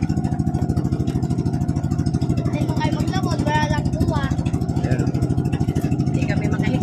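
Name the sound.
boat engine running quietly during test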